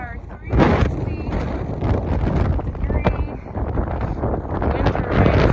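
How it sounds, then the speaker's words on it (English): Strong gusting wind buffets the microphone on an open stretch of the Pacific Crest Trail near wind turbines, a loud continuous roar with low rumbling bursts throughout, and a voice briefly audible under it. "when you leave the bush, it gets quite windy, understandably."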